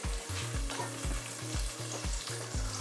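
Mushroom pieces hit melted butter in a pan and sizzle steadily, with repeated wooden-spoon stirring knocks and scrapes in a regular rhythm, close and clear with no talking.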